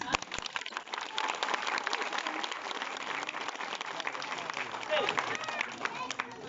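Audience applause and scattered cheering from a crowd at a jester's fire-torch show, steady across the whole stretch with voices mixed in.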